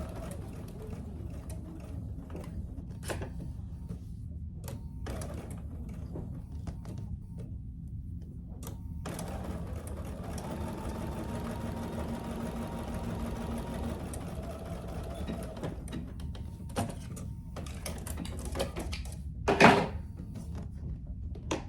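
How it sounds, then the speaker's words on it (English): A sewing machine stitching down each side of an oven mitt connector, a steady mechanical whir running for several seconds in the middle, with softer handling noises and bumps before and after. "you're gonna sew down each side."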